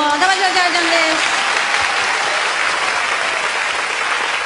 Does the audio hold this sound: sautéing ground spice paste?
no